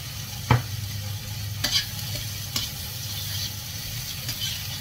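Simple Chinese fried rice sizzles steadily in a hot pan up close, with a few sharp clanks and scrapes from stirring spaced a second or so apart. No one speaks.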